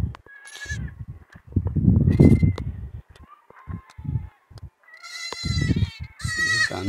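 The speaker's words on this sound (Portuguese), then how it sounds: "Uns aqui, umas cabras ali." Goats bleating repeatedly at a farm pen where newborn kids and mothers are kept during a drought, several loud nearby calls in bursts with quiet gaps between them.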